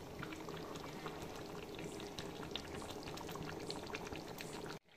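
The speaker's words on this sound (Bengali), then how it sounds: "এবার এর মধ্যে দিয়ে দিচ্ছি যে যতটা পরিমাণ ঝোল রাখবে সেই মতো গরম জল" Hot water poured into a simmering Bengali meat curry, a steady bubbling, splashing pour that runs continuously for several seconds before cutting off abruptly, close by with no talking.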